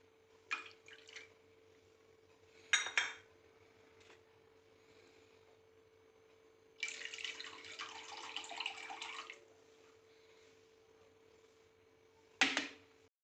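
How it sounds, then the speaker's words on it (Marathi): Milk poured into water in a pot while making dough for ukadiche modak: a soft, splashy pour lasting about two and a half seconds, with brief clinks of utensils before and after, fairly quiet overall. "त्यात थोडंसं सव्वा वाटी दूध पण आता मी ॲड करणार आहे"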